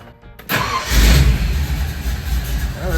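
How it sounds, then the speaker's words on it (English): A 1955 Ford Fairlane with a Holley 4000 carburetor cranks briefly and fires up, the engine catching with a loud burst and settling into a rough, rumbling idle close by. "She fired right up."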